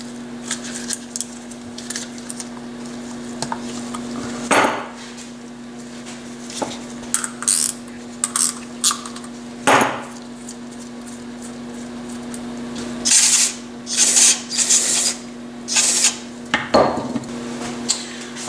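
Metal tool work on a Honda GX160 carburetor bowl drain bolt, with scattered light clinks and scraping taps over a steady low hum, some faint and some sharper, spaced irregularly with no talk.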